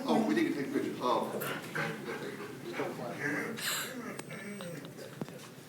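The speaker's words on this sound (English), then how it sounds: "It's a pretty dog." At a county commissioners meeting, a dog gives brief soft whimpers and small yips, faint and mixed in under nearby chatter from several people.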